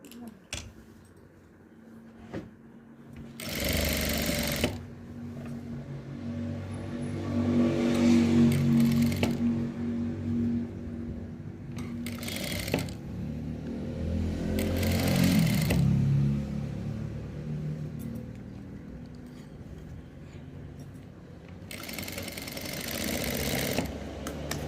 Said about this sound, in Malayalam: ബാക്ക് സൈഡിൽ ക്രോസ് പീസ് വെച്ച് നമുക്ക് തയ്ച്ചെടുക്കാം